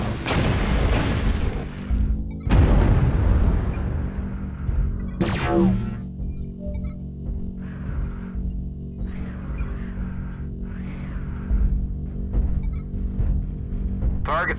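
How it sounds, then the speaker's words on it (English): Video game artillery strike explosions land as loud, close, booming blasts, two heavy impacts early on followed by a sharp burst and then quieter rumbling hits over a low continuous hum. "Artillery strike online."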